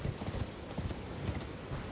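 Horse hooves clip-clop in a quick galloping rhythm in Elden Ring, a steady run of muffled thuds with no talking.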